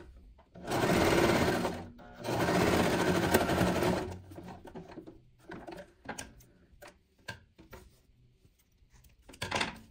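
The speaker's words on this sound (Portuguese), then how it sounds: "E vou costurar." A sewing machine stitches fabric in two sustained bursts of loud, steady mechanical whirring with a brief pause between them, then falls to scattered clicks and handling noises as the cloth is repositioned, with one more short burst at the end.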